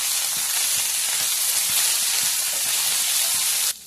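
Nalleru stalks and coriander frying in hot oil, a dense, even sizzle close by that runs steadily and cuts off abruptly at the end, with no talking.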